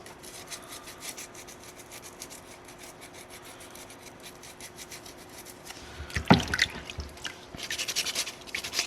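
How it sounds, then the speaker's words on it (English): A small soapstone wolf carving is sanded by hand with sandpaper pushed under a thumb, giving soft repeated close rubbing strokes, then a louder scrape and brisker gritty rasping near the end. "I'm using my thumb to push my sandpaper around"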